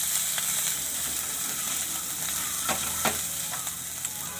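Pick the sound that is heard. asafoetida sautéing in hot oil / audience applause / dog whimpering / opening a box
asafoetida sautéing in hot oil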